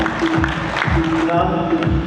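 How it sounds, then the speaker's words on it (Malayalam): Audience applause and cheering at a product launch event fill a brief stretch, a dense patter of claps under a loud voice speaking over a public address system. "ഒരു നല്ല കൈയടി"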